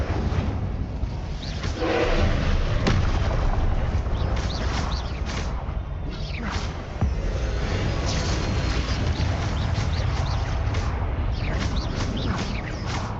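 A fire spell being cast in the Hogwarts Legacy video game, a loud, sustained roaring burst with crackling and whooshing layers, heavy and continuous across the whole span with several sharper flares.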